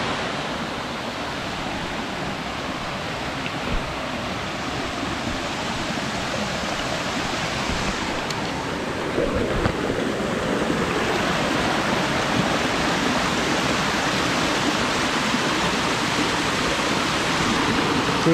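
Continuous roar of Yakushi Falls on Mount Horai in the Hira Mountains, a steady broadband rush of falling water that grows slightly louder partway through, with no talking.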